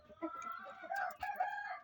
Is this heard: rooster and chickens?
yes